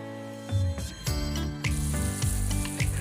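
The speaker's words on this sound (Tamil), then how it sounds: "3 நிமிஷத்தில் கொதிச்சு நல்லா எண்ணெய் பிரிஞ்சு வரும்." Tamarind fish gravy made with jilebi fish bubbles and sizzles in a pan on the stove, with repeated close pops and hissing bursts over a steady bubbling simmer.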